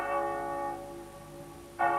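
A church tenor bell cast in 1625 rings with a long, pure sustained tone that slowly fades, then is struck again near the end. It sounds fairly close and clear, with no voices.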